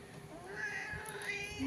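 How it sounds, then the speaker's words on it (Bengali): A cat meows a few times up close, its rising and falling cries drawn out over a soft background hum. "Miao Miao Miao Miao"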